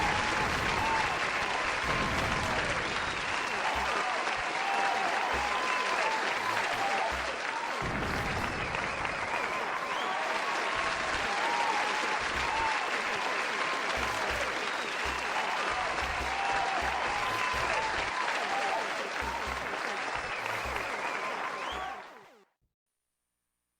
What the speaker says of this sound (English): You can now applaud.